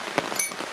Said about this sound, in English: as you can probably hear, it's absolutely lashing it down